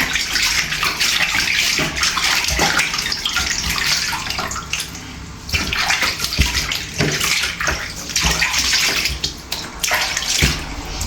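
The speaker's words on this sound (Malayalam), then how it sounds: "അപ്പൊ ഇത്രയും വെള്ളം നിറച്ച് ഇതിലേക്ക് ഇങ്ങനെ വെള്ളം നിറച്ചിട്ടിട്ട് നമ്മളിങ്ങനെ ഇച്ചിരി ഇച്ചിരി വെള്ളം ഇങ്ങനെ ഒഴിച്ച് ആക്കുകയാണ് ചെയ്യുന്നത്" Water is poured into a baby bathtub at home for bathing an infant, a steady, close splashing and gurgling stream that runs continuously without pause and with no voices.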